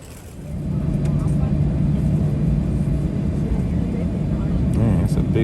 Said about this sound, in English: Man, it's a big Delta plane there.